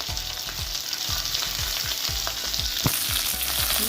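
Garlic and curry leaves fry in a heavy uruli for a jackfruit masala curry, a constant bright sizzle with a regular run of low thuds and scrapes from stirring, near and without speech.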